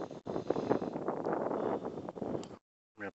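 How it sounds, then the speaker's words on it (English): Wind buffets an outdoor microphone in a broadband rumbling roar for about two and a half seconds, then cuts to silence before a short final burst. "I'm gonna have to get out of the wind."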